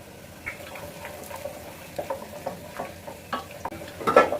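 Onions fry to brown with garam masala in a pot for mutton tehari, with soft crackling and spoon-stirring scrapes recurring irregularly, close and moderate, louder clatter near the end.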